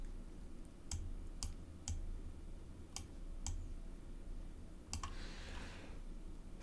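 Sparse, sharp key clicks on a computer keyboard while writing Python code, about eight separate taps spread irregularly over several seconds, fairly quiet over a steady low room hum with no voices.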